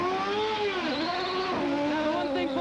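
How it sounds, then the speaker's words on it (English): A 1994 Indianapolis 500 IndyCar engine screams at high revs as the car leaves the pits, its loud, whining pitch rising and dipping through quick gear changes. "he kept the revs up. You could hear the engine was much higher"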